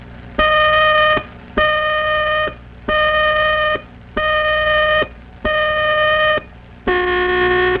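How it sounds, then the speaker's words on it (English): A 1950s factory fire alarm blares in six loud, harmonic buzzing blasts of about a second each, separated by short gaps, the last one lower in pitch, with no voices over it. "sets the alarm to put the emergency squad in action"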